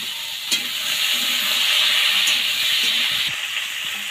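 Green chillies and chopped onion hit hot oil and sizzle, a loud, steady crackling hiss that runs throughout, with a few small clinks from stirring and no talk.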